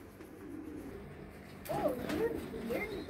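Pet pigeons or doves cooing while being boxed up for shipping, a few soft, close, throaty coos in the second half over a low indoor background.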